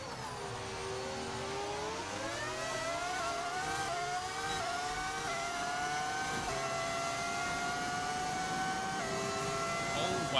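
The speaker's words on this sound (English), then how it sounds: "It's a V10 audio mod." Formula 1 racing game car running a V10 engine audio mod, a high, continuous revving whine with rising and falling harmonics, sustained loud throughout with faint background noise.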